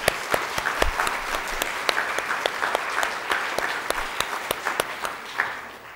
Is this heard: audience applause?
yes